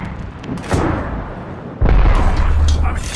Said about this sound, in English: Heads up, we've got an airstrike coming in.